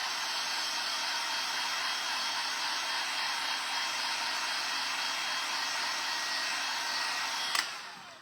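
A hair dryer blows steadily and loudly up close to dry paint on a chippy-paint butterfly project, a constant whooshing roar that cuts off with a click at the very end, with no talking.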